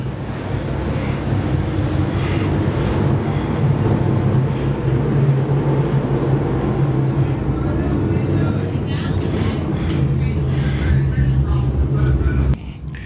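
Super Late Model race cars roar around Boyd's Speedway in a dense, continuous engine drone with wind buffeting, while a commentator talks over the noise.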